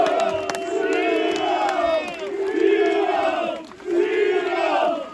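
Large football crowd at Colwyn Bay's ground on a Friday night under lights, cheering and chanting in loud sustained swells, with voices rising and falling in waves across the terraces.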